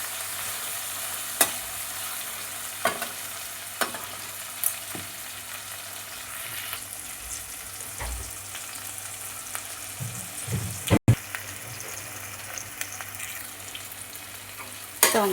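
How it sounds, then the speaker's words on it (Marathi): Onion and tomato masala frying in a pan, a steady close sizzle with occasional sharp stirring clicks and scrapes, no talking. "पूर्ण चांगलं खरपूस भाजून घ्यायचं आणि टोमॅटो पूर्ण यात शिजायला पाहिजे"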